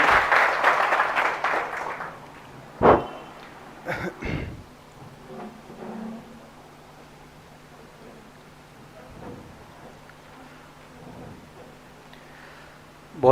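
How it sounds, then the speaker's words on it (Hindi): A lecture audience at a motivational talk by Ganpat Singh Rajpurohit gives a burst of applause lasting about two seconds, then the room falls quiet apart from a few scattered sounds and a faint hum. "स्वागत है श्री गणपत सिंह जी राजपुरोहित का, जोरदार तालियों के साथ।"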